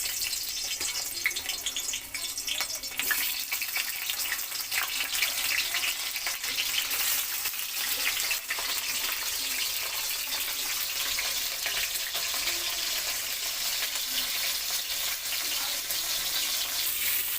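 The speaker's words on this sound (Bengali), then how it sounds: "ইলিশ মাছের মাথাগুলো তেলের মধ্যে দিয়ে দেওয়া হচ্ছে" Hilsa fish heads coated in salt and turmeric fry in hot oil, a dense, steady hiss and crackle that runs unbroken from start to finish, close and loud.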